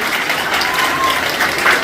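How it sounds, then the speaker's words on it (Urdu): An audience at a school result ceremony applauds in a short, steady burst of dense clapping heard up close, with faint crowd noise underneath. "میں کہتی ہوں آپ کے لیے آج تالیاں ہو جائیں"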